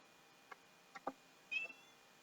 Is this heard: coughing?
no